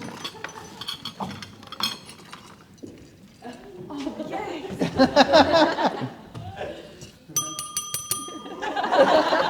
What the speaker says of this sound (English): It's a ringing bell